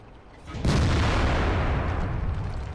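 A tank cannon fires at a KV-13 in World of Tanks, one sudden loud boom that rolls into a long, dense rumble sustained for a couple of seconds.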